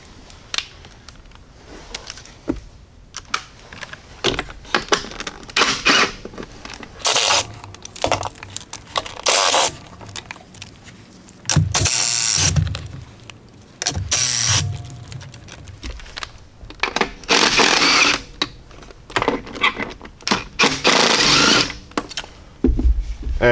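Ratchet loosening 10 mm nuts on a Jeep 3.6L engine, choppy bursts of mechanical clicking and whirring scattered across the stretch with short pauses and some handling noise, close up.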